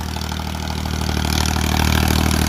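A 50 horsepower Indo Farm 3048 DI tractor runs with a steady, loud diesel engine drone, close by and continuous, with its throb building slightly toward the end.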